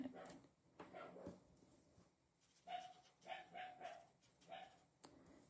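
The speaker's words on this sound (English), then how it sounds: "I have a dog that barks all the time." A dog barks repeatedly in the background of a quiet indoor craft session, the barks coming in short bursts at moderate distance alongside faint handling noises.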